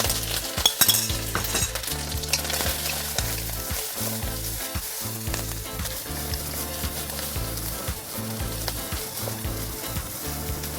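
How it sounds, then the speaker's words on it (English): Garlic, red onion and dried prawn sizzle loudly in a pan for an aubergine curry, with constant frying hiss and the repeated clink and scrape of a utensil stirring throughout. "Give it a stir for a while until all the onion, garlic getting brown."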